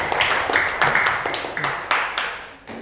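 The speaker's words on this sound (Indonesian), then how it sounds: "tepuk tangan" A class of students claps hands together in a series of sharp, rhythmic bursts, about seven or eight distinct claps in a row in a classroom, fairly close and loud.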